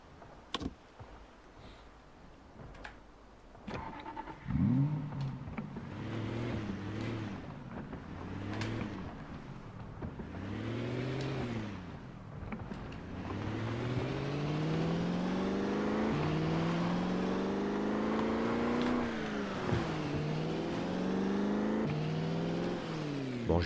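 Car driving in the video game Project Zomboid, an engine drone rising and falling in repeated gear-like sweeps that build to a steady, louder whine, with no talk over it.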